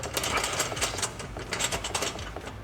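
A wrench works a nut on a golf cart accessory install, giving a rapid, steady ratcheting clatter close up for a few seconds, with no talking.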